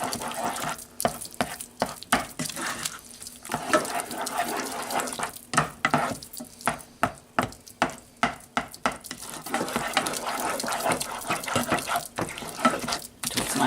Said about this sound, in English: You have to keep stirring it.